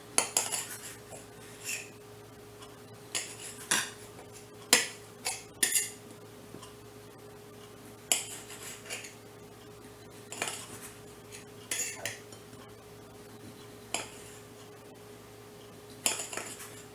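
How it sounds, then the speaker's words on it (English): Small fresh tomatoes sliced with a knife, giving sharp irregular clicks and taps of the blade against a cutting board, spaced a second or two apart over a quiet kitchen background. "I have a couple of little tomatoes I'm just going to slice and have with it"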